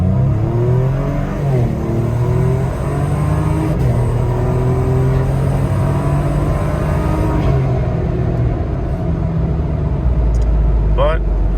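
A third-generation Toyota Tacoma fitted with a swapped GM LF3 twin-turbo V6 from a CTS V-Sport, on a partial tune, pulls hard with a loud, steady engine roar climbing in pitch, close up and continuous.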